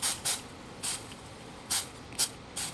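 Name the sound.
water sprayed onto hot clothes iron plate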